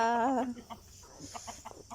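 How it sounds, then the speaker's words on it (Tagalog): A chicken lets out a loud drawn-out squawk in the morning on a rural farm, followed by a series of softer, quick clucks nearby. "Ay, mga manok sa umaga."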